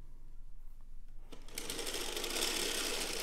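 A hand-cranked circular sock knitting machine starts up after a quiet moment, then runs as a loud, dense, steady mechanical whir and clatter, close by.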